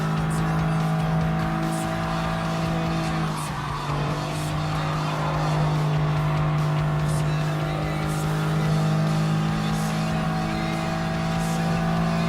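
Honda S660 race car in Gran Turismo Sport's Lightweight K Cup: a steady, loud, buzzing engine drone holds close throughout, with a brief dip in pitch and bursts of tire squeal and skidding as the car corners.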